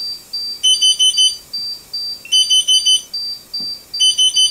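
A small household carbon monoxide detector beeps loudly and close by during a test with gas, sounding repeated groups of sharp, high electronic tones with short gaps between them.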